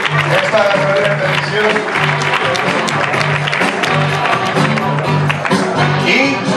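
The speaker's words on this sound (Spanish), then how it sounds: "fuerte el aplauso para los finalistas de esta categoría de" Crowd applause for award finalists at a Spanish media awards gala, dense and steady throughout with music playing underneath and a voice or two mixed in.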